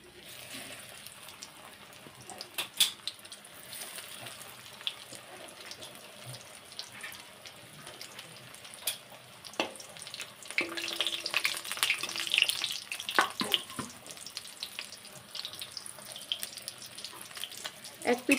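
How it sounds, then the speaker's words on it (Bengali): Fish cutlets of Bombay duck dropped into hot oil in a kadai, giving a faint, steady sizzle with scattered pops and crackles that grows busier partway through, quiet and close with no talk. "তেলটা গরম হয়ে গেছে, তেলের মধ্যে একটা একটা করে ছেড়ে দেবো।"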